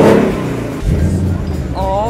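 A Ford Mustang V8 switched into sport exhaust mode gives a deep, loud rev with rumbling low harmonics, dipping briefly and then swelling again, while a person talks over it.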